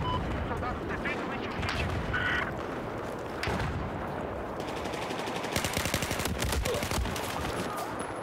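Battlefield 4 gunfire rattles in rapid automatic bursts with scattered single shots, dense and continuous, with a voice speaking over the combat.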